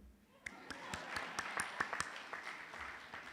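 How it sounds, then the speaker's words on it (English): Faint, sparse clapping from a small audience at an education forum session. Scattered individual claps ring out at uneven intervals over a quiet room, with no sustained roar. "Clap for me."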